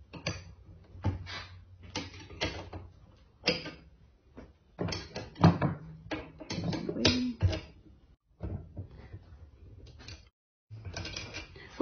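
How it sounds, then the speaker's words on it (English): A 7/16 wrench removes the four motor bolts on a Bell & Gossett inline circulator pump, giving close, loud metallic ratcheting clicks and clanks in uneven bursts separated by short pauses. "you'll start by taking your 7/16 wrench to remove the four bolts that secure the motor to the bearing assembly"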